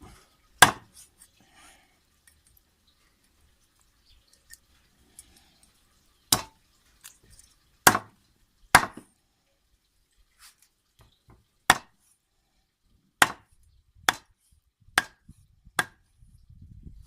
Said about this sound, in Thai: เดี๋ยวเราจะมาสับ สับเป็นท่อนเป็นท่อนแล้วก็ป้อมครับ